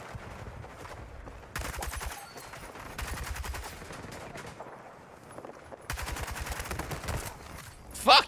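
L85 rifle fire in a video game: rapid automatic bursts of crisp shots, several sustained volleys separated by short pauses, loud and close, ending with a sharp louder impact.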